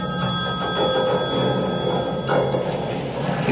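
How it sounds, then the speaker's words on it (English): A telephone rings with a steady, trilling bell tone that carries on throughout, heard against a faint room hum, in the 1975 film Black Christmas. "Your phone's ringing."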